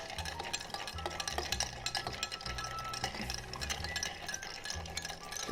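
A bar spoon stirs a bourbon cocktail over ice in a mixing glass, a steady close swirl of soft clinking and rattling ice.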